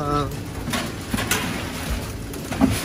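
Racing pigeons cooing in a loft in Virginia Beach, soft repeated low coos close by, with someone talking over them.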